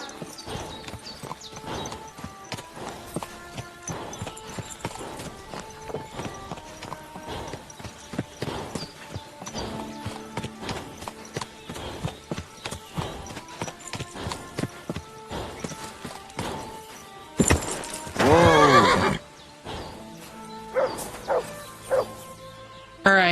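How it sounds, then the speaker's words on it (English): Horse hooves clip-clop steadily through most of a Kingdom Come Deliverance 2 gameplay scene, with a louder burst near the end that may carry a whinny, while some speech murmurs in the background. "Who would you guys say is the best horse in the game?"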